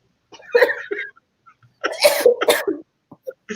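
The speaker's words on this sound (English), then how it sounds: "So now you cough." Two bursts of a person coughing close by during a casual podcast conversation, the second a louder double burst, with brief pauses and small sounds between.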